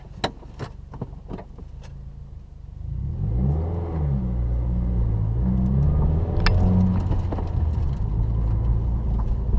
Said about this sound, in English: let's get into this driving of the 2016 WRX